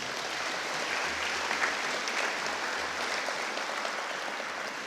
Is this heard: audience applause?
yes